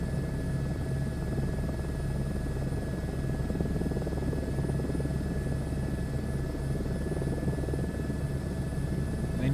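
A helicopter in Microsoft Flight Simulator 2024 drones steadily, with a constant rotor and engine hum that holds at an even, fairly loud level throughout. No one speaks.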